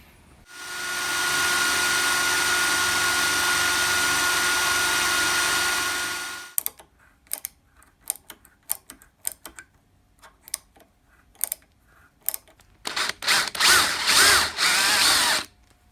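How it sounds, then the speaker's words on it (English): A drill press runs for several seconds with a loud, steady whine, then stops, followed by scattered clicks and taps of holes being tapped and adjusted, before a final burst of rougher machine noise. "We'll get that set up, drilled and tapped"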